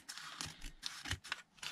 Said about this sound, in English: I'm just going to go and trim the excess off the side